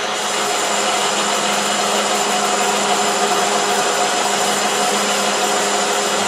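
South Bend 13-inch lathe taking a deep cut on a bushing, a steady, continuous machining whir and hiss with faint tonal hum running unbroken throughout, fairly close and alone.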